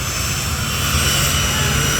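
Roar of a General Electric J38 jet engine powering a jet dragster car, a steady loud broadband whoosh with a low rumble and high hiss, sustained without pause.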